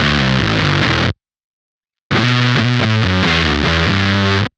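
Fuzz bass through a Champion Leccy pedal with bias and gain turned all the way up, a dense, synthy distorted tone in two loud phrases separated by a sharp gated gap of silence.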